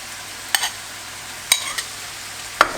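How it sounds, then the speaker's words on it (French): A spoon stirs browned, cooked meat mixed with ketchup, mustard and garlic in a pan, giving three separate scraping strokes with soft sizzling in between, close and clear with no talking. "on va mélanger tout ça à la viande correctement"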